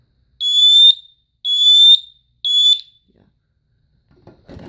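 A home smoke detector under test gives three loud, shrill electronic beeps in an even rhythm, each about half a second long, then falls silent before faint handling noise.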